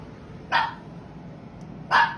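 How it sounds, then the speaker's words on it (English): Two sharp dog barks about a second and a half apart, moderately near, over a quiet low background hum. "My dog just started barking for no fucking reason"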